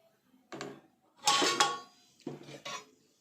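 A metal pot of beaten egg is set into a steamer vessel, making three separate clanks and scrapes of metal on metal, close and fairly loud, with quiet pauses between.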